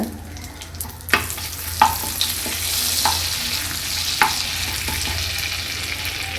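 Whole spices (cinnamon, cloves, cardamom) and two bay leaves fry steadily in hot oil for paneer butter masala, a constant sizzle broken by several sharp spoon clinks and stirring scrapes against the pan, close up with no voices.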